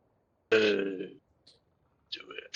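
Several people let out a loud, drawn-out burp together at a tabletop game session, a deep bellowing belch lasting about half a second, followed later by a shorter, higher vocal burst.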